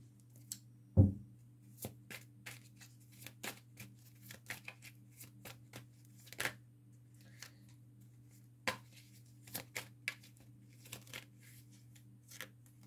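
Tarot cards being shuffled, giving a string of soft, dry riffles and taps, sparse and close, with one sharper knock near the start over a steady low hum.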